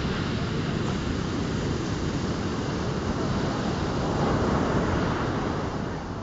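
Big, powerful sea waves roll and crash continuously on a shore, a loud, unbroken roar with heavy wind buffeting the microphone.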